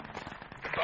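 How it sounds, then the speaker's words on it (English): Anti-aircraft gunfire in the video game FUBAR, a fast rattling burst of shots heard at a distance, under voices talking. "They just tried to shoot us with an AA."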